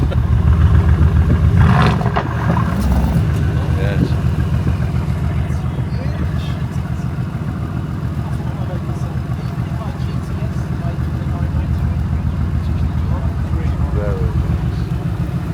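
Low engine burble from a car idling and ticking over, with a steady rumbling tone throughout and a louder surge near the start; people talk over it.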